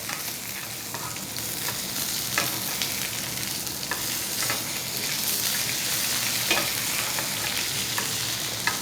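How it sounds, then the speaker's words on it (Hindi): Garlic frying in a pan alongside a sirloin steak being cooked well done, giving a steady, close, loud sizzle with crackling pops throughout, no voices. "ये लहसुन को इसके अंदर मैं शामिल कर रहा हूँ ताकि लहसुन का एक अच्छा सा टेस्ट भी इसके अंदर चला जाए।"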